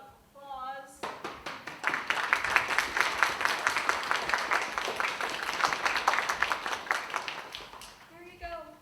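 A crowd applauds steadily for several seconds, dense clapping that swells and holds, with brief speech just before and after.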